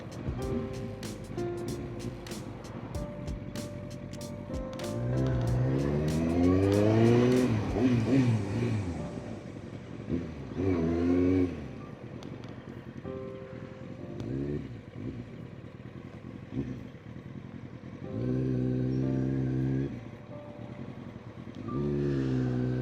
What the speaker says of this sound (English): Traffic, traffic, traffic.